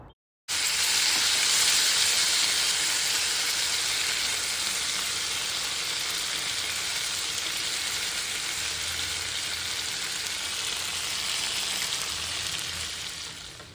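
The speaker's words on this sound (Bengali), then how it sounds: "লাল করে ভেজে নিতে হবে এই মাখনটাকে তারপরে ম্যারিনেটেড প্রনগুলোকে ঢেলে দাও পাত্রের মধ্যে" Marinated prawns fry in garlic-browned butter in a pan, a loud, dense, continuous sizzle that starts suddenly after a moment of silence and then runs steadily at close range with no talking.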